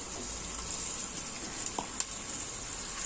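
Onions fry in hot oil in a pot for dhaba-style chana dal, a steady bright sizzle that hisses on evenly throughout with a couple of faint clinks and no voices.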